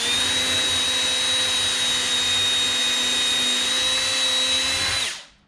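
A power drill boring through wood for garage cabinets whines steadily at a high, even pitch for about five seconds, then winds down and stops.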